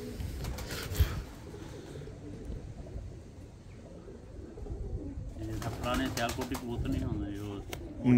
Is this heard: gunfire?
no